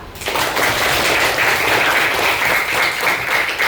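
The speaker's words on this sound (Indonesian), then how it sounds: "Tepuk tangan karena kita sudah bisa menjawab" A classroom of students bursts into applause, dense and loud clapping that begins abruptly and holds steady for a few seconds.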